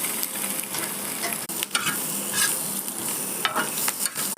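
Egg cooks in a hot pan with sautéed, salted seasoning, giving a steady close sizzle broken by scraping stirs and soft clinks, with no talking.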